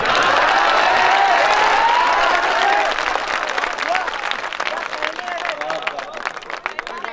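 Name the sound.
audience applauding at a mushaira poetry gathering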